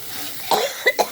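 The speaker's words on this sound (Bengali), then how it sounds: "তাই জন্য কাশি হচ্ছে" A person gives three short, sharp coughs close by, irritated by pungent fumes, against a faint background hum.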